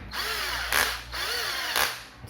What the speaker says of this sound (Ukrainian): Тріщотка спрацьовує, включимо восьму швидкість